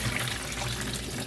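Tap water runs in a steady, close rush as fish is rinsed before grilling, with no pauses or voices.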